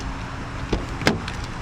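Someone climbs into a car: a soft thump and then a sharper clunk as the door shuts, over a quiet steady background hum.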